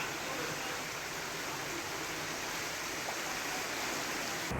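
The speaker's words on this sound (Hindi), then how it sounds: "झील के गेट खोलकर पानी की निकासी की जा रही है।" Water rushes steadily out through the opened gates of Naval Sagar lake after continuous rain in Bundi, a constant broad roaring wash at moderate level with no breaks.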